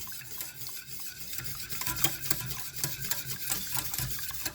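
A ceremonial cacao drink is whisked by hand, making a continuous, rhythmic swishing and scraping close by, with no talking.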